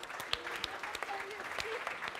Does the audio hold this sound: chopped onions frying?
no